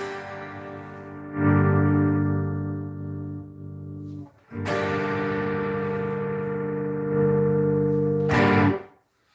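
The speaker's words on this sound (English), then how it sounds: "There's some distortion." An instrument is played through a distortion effect, with sustained, buzzy, reverberant chords that ring out in three separate strums, each swelling and then decaying, with no voices.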